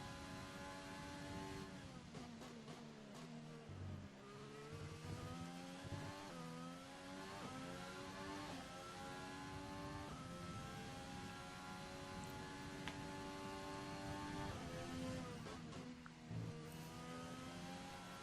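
F1 car engine in the racing game F1 2020, a steady high-pitched whine that rises and falls with gear changes and revs, playing on its own at low level.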